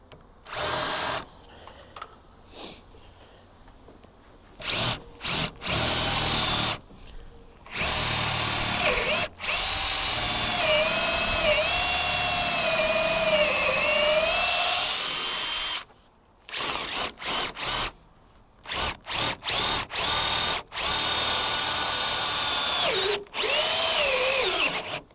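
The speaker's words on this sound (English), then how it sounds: "drill out these smaller holes with a bigger drill bit" Power drill with a 12–14 mm bit boring out smaller holes in a boat hull, running in repeated bursts of several seconds with brief pauses between, loud and close, no talking.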